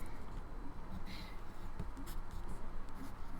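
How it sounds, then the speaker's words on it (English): Pencil scratching and scribbling on paper right under a microphone, a steady close-up scratchy texture that runs continuously with small strokes and pauses. "You sound like you're drawing with a pencil"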